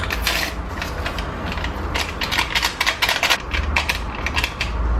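A butter and oil mixture with flour and two sachets of yeast is stirred into cake batter in a bowl, giving rapid, busy clicking and scraping strokes up close that run steadily throughout.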